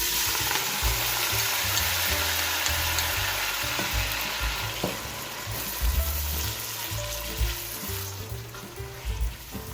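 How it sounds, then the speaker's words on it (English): Tomatoes, onions, herbs and jalapeño and serrano peppers sizzle and crackle steadily in hot palm oil, with stirring and scraping heard throughout and no talking. "Time to put all the veggies in the palm oil."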